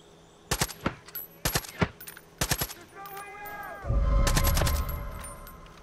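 Bursts of assault rifle fire in Far Cry 5, several short rapid volleys in the first two seconds, followed by ringing tones and a louder rumbling blast near the end, all close and loud with no talking.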